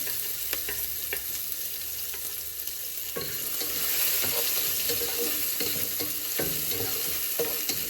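Chicken frying in a pan, about 1 kg, with onion added, giving a constant close sizzle broken by scraping and stirring knocks that grow busier partway through.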